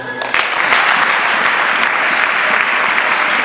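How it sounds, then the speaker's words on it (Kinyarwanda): A burst of loud applause from a crowd begins abruptly and continues steadily, dense clapping filling the space. "Ndagira ngo mwayiduhera amashyi."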